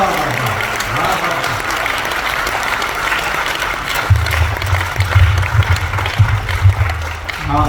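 An audience at a Hindi comedy poetry gathering (hasya kavi sammelan) breaks into sustained, dense applause, loud and steady throughout, with low tones and some voices mixed underneath.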